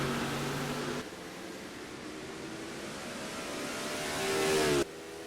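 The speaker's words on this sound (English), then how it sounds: "but Garrett Lamar coming through turn number 1. Nobody near him." A race car engine in a sim racing video game at COTA (Circuit of the Americas), a loud sustained engine whine that drops abruptly, then climbs steadily in pitch before cutting off.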